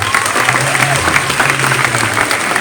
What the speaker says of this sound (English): Would you please clap for your greatest principal?